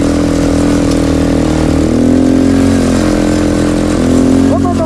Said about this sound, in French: Il y a un tracteur qui passe là,